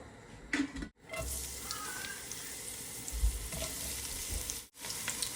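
Onions fry with salt in a pan for a kabab filling, a low, steady sizzle broken by brief cut-outs and a few soft scraping stirs, fairly quiet and close, with no talk.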